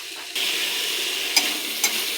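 Tomato, onion and potato frying with spices for a bhola fish curry make a steady soft sizzle, with two sharp spatula clinks against the pan as the mixture is stirred.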